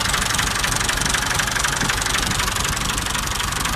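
A Massey Ferguson MF 240 tractor engine running steadily at idle, a loud close continuous knocking rumble with dense noise throughout and no voices.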